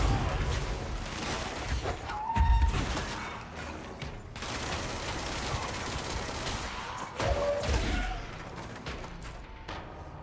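Bursts of rapid gunfire and explosive crashes from the video game Control fill a busy, loud mix, with heavy thumps around the midpoint and again near the end.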